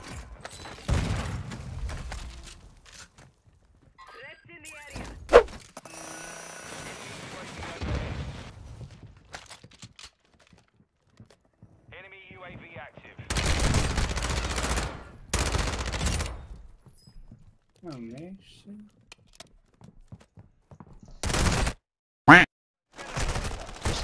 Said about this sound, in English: I'm getting shot from the other roof.